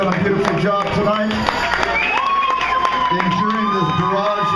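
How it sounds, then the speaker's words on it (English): A live concert crowd at the Continental Club claps and cheers together, a dense near roar of applause with shouts and whoops rising over it. "give them a big round of applause"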